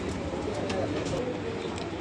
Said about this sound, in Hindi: सलारा कबूतर है माशाल्लाह